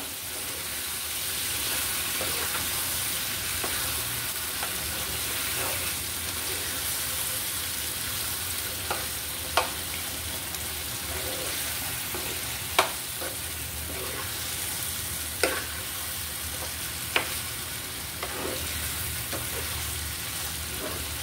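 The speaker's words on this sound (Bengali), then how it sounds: "এবার আমি শুটকির সাথে শাকগুলো সুন্দর করে মিলিয়ে দিচ্ছি।" Taro greens and dried prawns sizzle and hiss steadily in a pan while being stirred, with a few sharp scraping clicks from the utensil against the pan; no one speaks.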